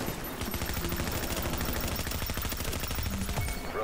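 Dense, continuous shotgun fire from Tom Clancy's The Division, loud rapid blasts overlapping with a steady rhythm of pulses throughout, no pause between shots.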